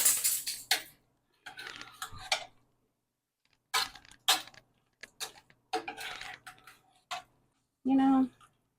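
Shredded chicken taco filling being stirred in a pan with a utensil, giving intermittent scraping and clinking bursts with pauses between, close and moderately loud, ending in a brief tonal sound.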